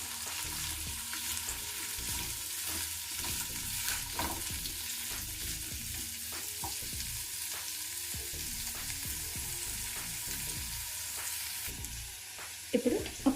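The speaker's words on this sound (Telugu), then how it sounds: "ఇవన్నీ కూడా ఒక 3-4 మినిట్స్ మనము మీడియం ఫ్లేమ్ మీద వేయించుకోవాలి" Vegetables for a restaurant-style kadai veg dish frying in a pan over a medium flame, a continuous close sizzle with regular stirring scrapes and clinks throughout, no voices.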